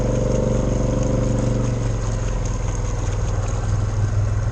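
An 850HL motorcycle engine idles while floating in a lake, with a steady, throbbing rumble and a faint watery churn, its low pulse changing slightly partway through; close and continuous.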